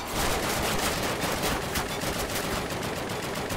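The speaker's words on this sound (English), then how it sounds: "I'm shooting them and it's not doing anything" Sustained rapid machine-gun fire in Call of Duty, loud and unbroken bursts filling the whole few seconds.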